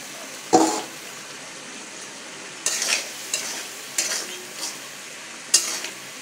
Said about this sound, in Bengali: মশলাগুলো কষানো হয়ে গেলে আগে থেকে বেছে রাখা মাছগুলো দিয়ে দিব।